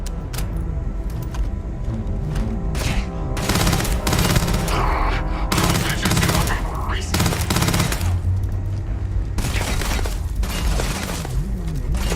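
Gunfire from a weapon in Starfield, loud irregular bursts and booms that recur through the moment amid other combat noise, with someone talking over it.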